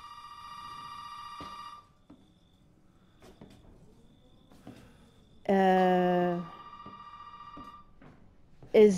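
An old telephone rings in the Resident Evil 7: Biohazard video game, with a trilling burst at the start and a louder, closer one midway, separated by quiet ambient gaps.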